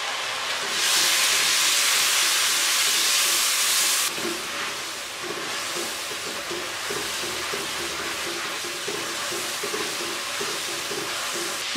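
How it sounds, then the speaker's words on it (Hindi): Water poured into a pan of frying spices for karela chana daal sets off a loud, bright steam hiss that drops after a few seconds to a steady crackling sizzle, close up with no talking. "अब मैं इसमें थोड़ा सा पानी डालूँगी और मसालों की भुनाई कर लूँगी।"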